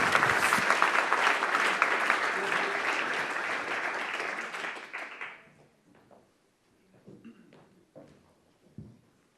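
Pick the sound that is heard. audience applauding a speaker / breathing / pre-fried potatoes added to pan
audience applauding a speaker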